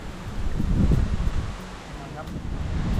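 Cool wind blows through a Thai forest on a honey-hunting trip, a steady broadband rush with a stronger gust early on and rustling leaves under light microphone buffeting.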